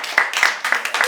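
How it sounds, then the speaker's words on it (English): A few sharp, evenly spaced claps from students in a biology genetics class, four bright bursts in about a second, close and fairly loud in a classroom. "Please clap for yourselves"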